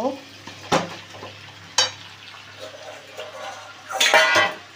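Boiled ash gourd greens are stirred into a hot pan for a prawn dish, with a spatula scraping and knocking against the metal over a soft sizzle, close and fairly loud.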